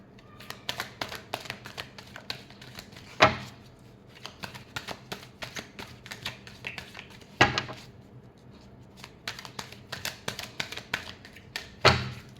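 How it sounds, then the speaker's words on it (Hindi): Tarot cards shuffled by hand, a run of quick close riffling and flicking with three sharper slaps as the deck is squared, repeated in bursts with short pauses and no talk. "Last shuffle."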